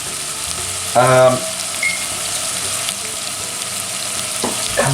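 Finely chopped onions, about four medium ones, frying in oil for a lasagna, a loud steady sizzle throughout with a brief stirring clatter and a short spoken word.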